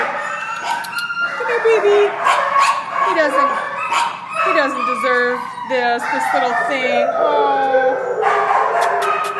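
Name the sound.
dog barking and whimpering in shelter kennel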